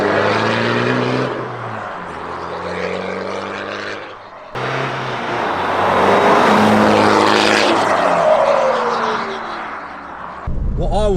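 Straight-piped, remapped VW Golf GT TDI diesel passing with a loud, rough drone and a rising note, the exhaust dipping briefly before swelling again as the car accelerates.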